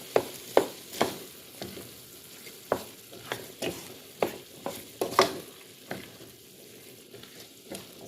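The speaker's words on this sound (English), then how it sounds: "Then I'm gonna stir everything in." Vegetables with a splash of ketchup being stirred in a pan, a series of sharp, irregular spoon knocks and scrapes against the pan over a soft background sizzle, close by and without speech.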